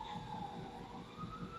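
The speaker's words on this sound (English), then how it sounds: "there's actually an ambulance outside of my window" An ambulance siren wails steadily in the distance outside a window, muffled as if heard from indoors, with a faint wavering tone and low background rumble.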